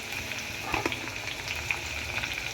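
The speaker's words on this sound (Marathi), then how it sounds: "थोडेसे कढीपत्ता टाकूया." Curry leaves go into hot oil for a pea and potato curry, setting off a crackling, spitting fry with quick pops over a steady hiss, close and moderately loud.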